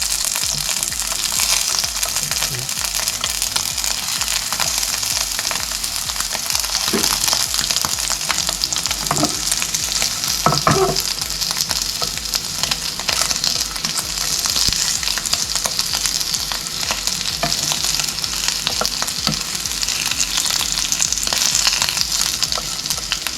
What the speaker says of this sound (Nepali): लसुन अलिकति फ्राई गरिसकेपछि बल्ल मैले हाम्रो यो राजखानी हालेँ।